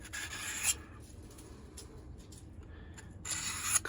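Knife edge being honed on a Work Sharp guided field sharpener, quiet rasping strokes with sharper scraping bursts at the start and end, close and alone.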